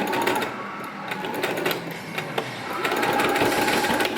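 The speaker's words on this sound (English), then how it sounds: "I'm about to stitch the straps in on the front." A sewing machine stitching bikini swimsuit straps runs steadily up close with a fast whirring chatter, holding a constant level for the whole stretch.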